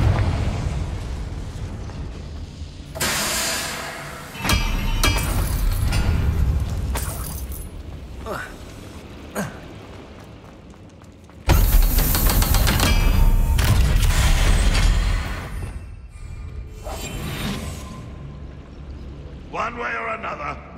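Confringo blasting spell explosions bursting in several loud, roaring eruptions separated by quieter stretches, with voices speaking between the blasts.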